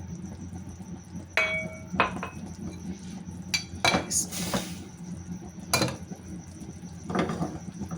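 Metal pots and utensils clink and knock a few times in a quiet kitchen as water is poured into a cooking pan of sugar and walnut gachak, a soft watery sound in the background.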